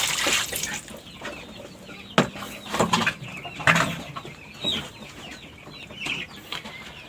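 Chickens cluck intermittently on a poultry farm as drinking water is readied for them, with scattered sharp knocks and splashes and a low background hum, moderately close.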